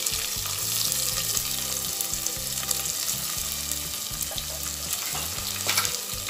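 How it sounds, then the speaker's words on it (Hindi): Two medium finely chopped onions fry with cashews in oil in a pressure cooker over a medium flame for a soya veg biryani, giving a steady, close, continuous sizzle with faint low background tones. "प्याज को हमें हल्का सुनहरा होने तक फ्राई करना है।"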